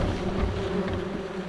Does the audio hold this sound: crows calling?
no